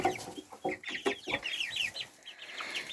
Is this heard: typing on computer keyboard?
no